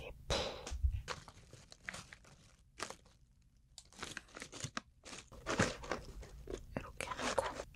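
Kkokkalcorn corn cone snack, original savory flavor, dipped in sauce and eaten close up, giving repeated crisp crunches and crinkly bites in bursts with short pauses, no talking.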